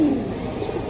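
Pigeons coo in a short low burst, close and fairly clear against a steady background.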